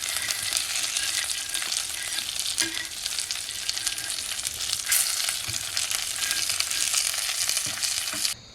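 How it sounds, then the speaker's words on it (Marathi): Thick pieces of mahseer fish frying in oil in a pan, a loud, dense, continuous sizzle with occasional crackles and faint utensil touches. "चला, खडस मासा आता फ्राय केला आहे."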